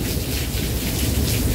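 Rain pours down during a storm as a dense, loud, continuous roar with a deep low rumble running underneath it.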